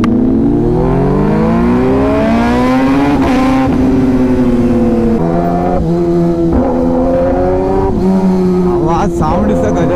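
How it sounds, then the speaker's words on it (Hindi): A superbike engine and exhaust revs loud and near on a Kolkata street, pitch climbing and dropping through several sustained blips with shifting harmonics, continuous for about ten seconds. "साउंड इसका गजब है भाई, एरो का लेकिन एक्सट्रीम लाउड है"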